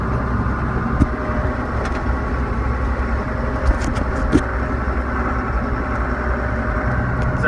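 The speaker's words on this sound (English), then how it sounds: "The tractor will start moving" A John Deere 7400 tractor's diesel engine runs steadily at a loud, even idle-like drone, with a few faint clicks and ticks over the constant rumble.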